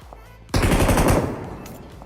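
Sudden burst of rapid automatic gunfire in a battle royale video game while finishing off knocked enemies, loud and dense after a quiet start, then tailing off with echo.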